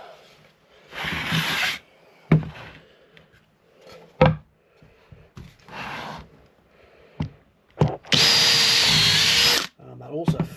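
A Ferrex hole saw on a power drill bores through MDF in two loud bursts, a short one early and a longer steady whine near the end, with knocks and handling clatter between them.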